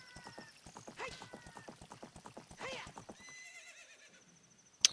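Horse in The Legend of Zelda: Ocarina of Time whinnies twice over a steady, rhythmic clip-clop of galloping hooves, with a sharp in-game chime at the end.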